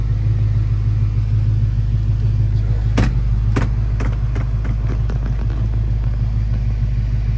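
A 1966 Ford Mustang Fastback 2+2 engine runs steadily with a loud, continuous low rumble. A few sharp clicks and knocks sound over it midway, and no one speaks.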